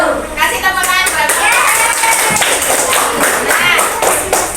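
Audience applause at a community presentation in Jombang, a dense burst of scattered hand claps that rises quickly and holds for several seconds, with voices mixed in among the crowd.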